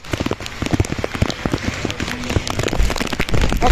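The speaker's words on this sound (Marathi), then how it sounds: "जरा खूपच पाऊस चालू आहे" Heavy rain pouring down, dense close patter of drops hitting surfaces that grows louder toward the end, with occasional bumps and movement nearby.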